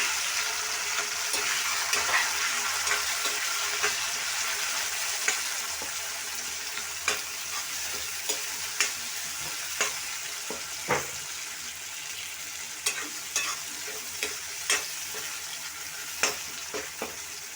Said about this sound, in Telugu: టమాటా అయితే బాగా వేగిపోయింది.